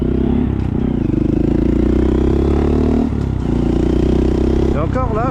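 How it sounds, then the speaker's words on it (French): A 2023 Honda 125 Monkey with an aftermarket AliExpress exhaust idles and burbles at close range, a loud low rumble throughout. It briefly dips and revs near the middle, with a quick rising blip at the end. "Avec ce petit échappement là, AliExpress, ça lui donne une petite sonorité rock'n'roll"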